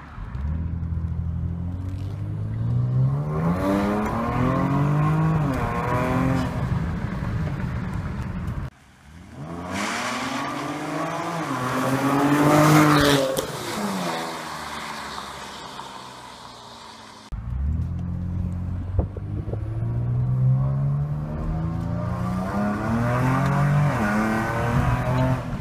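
A 2014 Ford Taurus SHO fitted with a Corsa cat-back exhaust and Stainless Works downpipes revs hard in three long pulls, each rising in pitch, with a deep loud exhaust note and a raspy edge.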